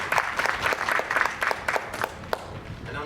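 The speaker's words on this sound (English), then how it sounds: "So I think they deserve a round of applause." Applause from an audience at a surgical center ribbon-cutting ceremony, a fairly small group clapping in uneven bursts at moderate distance, thinning out and fading toward the end.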